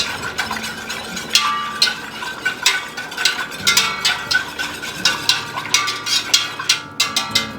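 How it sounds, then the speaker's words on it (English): A whisk stirring watermelon jelly mixture in a pot to break up lumps, giving quick repeated clinks and scrapes that grow more rhythmic and steady toward the end, close by with no talking. "I'm going to whisk this. To break up any of those lumps"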